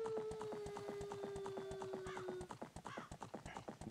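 A horse gallops in The Legend of Zelda: Ocarina of Time, with rapid rhythmic hoofbeats that grow louder and more distinct, and a whinny near the start, heard alone without talk.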